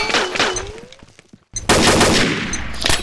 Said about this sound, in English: All my shots don't register.